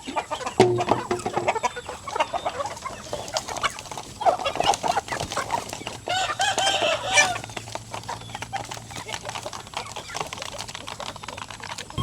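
Chickens and chicks cluck and cheep steadily at afternoon feeding time after rain, with scattered clicks and rustles of feed close by and no talking.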